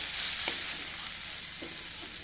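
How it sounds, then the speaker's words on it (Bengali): Spices and green jackfruit sautéed in mutton fat, a constant hissing sizzle with a few soft stirring knocks spaced through it. "মশলা আর এঁচড় একসঙ্গে কষাবো ভালো করে কষিয়ে নিয়েছি"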